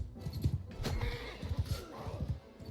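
A horse whinnies in the Bannerlord video game, a close, rising neigh with hoof clip-clops and snorting mixed in, short and fairly loud.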